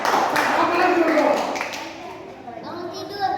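Children at a Baptist church holiday Bible school clap along during a short prayer routine, a few crisp claps mixed with a voice and an adult speaking, fading into quieter room sound.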